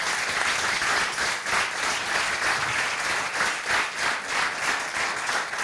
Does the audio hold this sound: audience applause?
yes